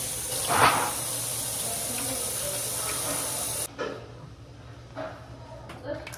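Tap water runs steadily at a kitchen sink during hand washing, a broad, even hiss that cuts off about halfway, leaving quieter kitchen sounds and a few soft knocks.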